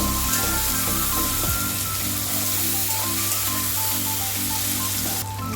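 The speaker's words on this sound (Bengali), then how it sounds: "টমাটারটা জলদি করে ভাজা হয়ে যাবে নুন দেওয়ার পর" Tomatoes fry with salt in a pan while a semolina upma is being cooked, giving a steady, loud, close sizzle that runs continuously with a faint rhythmic background hum and no talking.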